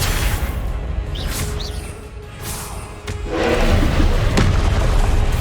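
Booming fire-spell blasts from Hogwarts Legacy, heavy thuds with whooshes and crackling bursts, one near the start and a louder, longer explosion in the second half, with no talk.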